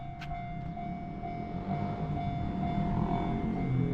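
Steady low rumble of a train rolling past a Japanese level crossing at close range, a continuous rail-car drone that slowly swells in loudness, with a faint high tone running through it.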